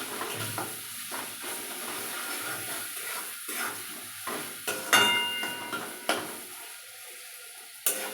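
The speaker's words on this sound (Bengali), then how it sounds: "সবগুলো উপকরণ আমি ভালো করে কষিয়ে নেব" Potato and paneer with turmeric, salt and chili powder are stirred in a pan over a very low flame, a soft steady sizzle broken by scraping spoon strokes and occasional clinks of utensil against metal, with no talking.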